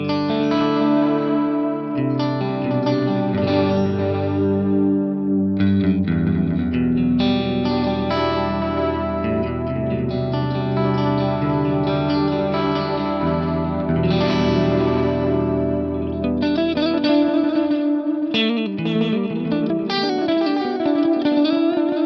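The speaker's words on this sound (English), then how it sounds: "I'm going to bring in some wow and flutter." Layered synth or guitar tones through an Eventide H90 delay with tape wow and flutter, echoing repeats whose pitch subtly wavers and wobbles, a warbling tape-like delay running continuously throughout.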